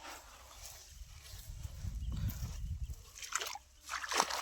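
Irrigation water flows into a field with a low, gurgling slosh that swells and fades, while splashy bursts come and go near the microphone.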